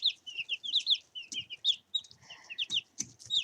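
Chickens clucking and peeping indoors at a sand bath, a busy overlapping series of close, bright clucks and chirps with short lower notes mixed in, no speech.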